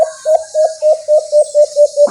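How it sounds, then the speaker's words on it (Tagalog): Toro, a pet bird, gives a close, loud call of about ten evenly spaced short notes in a quick steady rhythm, alone and clear. "narinig nyo ang boses ni Toro."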